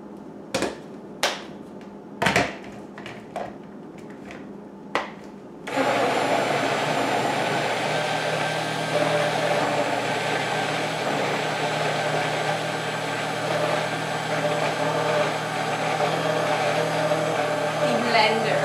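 A cheap countertop blender whirring through a frozen fruit smoothie starts after a few sharp knocks and clatters, then runs loud and steady with a harsh motor whine for the rest of the stretch.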